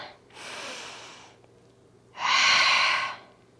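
One long audible inhale and then a stronger, louder exhale during a dumbbell workout, both breaths close to the microphone, with no other sound between them.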